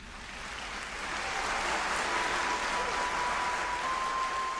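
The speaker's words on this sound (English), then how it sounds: "some of them receive a hail of applause" A large crowd breaks into sustained applause that swells after the first second and holds at a steady, dense level.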